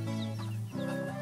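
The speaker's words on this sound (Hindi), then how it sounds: "चीनू, क्या तुम्हें पता है ये चूजे भी एक दिन बड़े होकर मुर्गे मुर्गिया बन जाएंगे।" Chicks cluck and cheep in quick, close calls over a steady background hum, with no speech.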